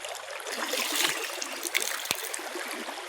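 A small village stream flows with a soft, steady trickle and wash of water, faint and fairly distant, with a couple of brief splashes or knocks midway.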